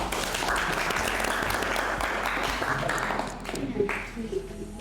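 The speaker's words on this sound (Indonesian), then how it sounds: "Harusnya tepuk tangan." Applause from an audience at a university teaching session, steady dense clapping filling the room for several seconds before tapering slightly near the end.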